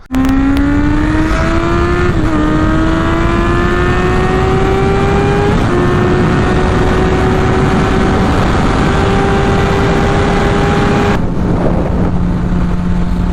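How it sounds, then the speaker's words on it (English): A motorcycle rides down the road with its engine droning loud and close throughout, pitch climbing steadily through several gear changes marked by brief dips. "we're going to go ahead, hop on the bike, head on down the road, maybe do a couple pulls"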